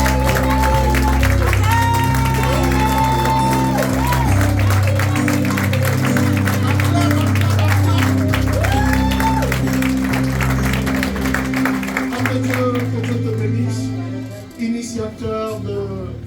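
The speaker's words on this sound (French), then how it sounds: "Et je veux qu'on acclame fortement le Seigneur" A church congregation applauds and acclaims loudly at a prophetic worship service, sustained clapping and crowd noise blended with music and a voice.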